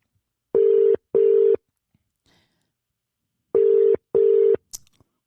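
Telephone ringing tone routed through a mixer: two pairs of steady double rings, each pair a quick burr-burr, separated by about two seconds of silence, then a brief click at the end.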